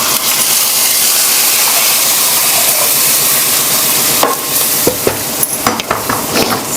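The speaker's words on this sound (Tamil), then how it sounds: "சாம்பார் தாளிப்பு போட்டாச்சு" Sambar tempering spits in hot oil as vadagam, dried red chilies, curry leaves and a green chili fry, a loud steady crackling sizzle that breaks into sharp pops and stirring clatter toward the end.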